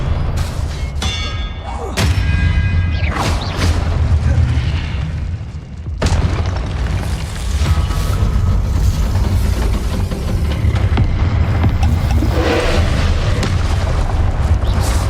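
Confringo spell explosions in Hogwarts Legacy, loud heavy booms arriving in quick succession over continuous battle noise, with a voice calling spells amid the clamour.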